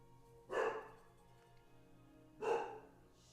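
A dog barks twice, two separate woofs about two seconds apart, somewhat distant and faint in an otherwise quiet room.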